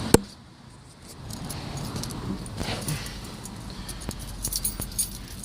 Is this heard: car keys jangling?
yes